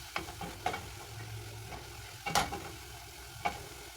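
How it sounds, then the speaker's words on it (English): Garam masala fries with translucent onions in a pan, a soft low sizzle punctuated by four or five distinct spoon taps and scrapes against the pan, close and fairly quiet; no speech. "add my garam masala and fry it a little"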